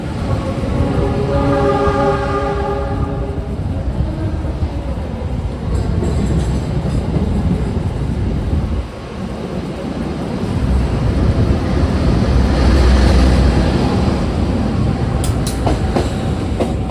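An extra Lodaya economy passenger train runs on the rails from Solo toward Bandung at night, a loud, constant rumble with rhythmic clickety-clack of the wheels. A brief dip in the noise comes midway, and no one speaks.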